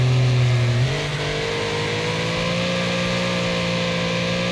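A Panther RS car engine revving loud and close in the Wreckfest racing game, with a pitch shift as it changes gear and then a sustained drone at high revs.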